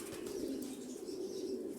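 Pigeons returning home to their loft, a soft continuous fluttering of wings with a low cooing tone underneath, faint and fairly close.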